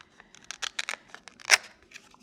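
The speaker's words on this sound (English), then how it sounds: "what you want to do is you want to cut 2 apertures" Scissors snip apertures into folded card for a light-up Christmas teepee craft, a quick series of close, crisp cuts with one louder snip near the end.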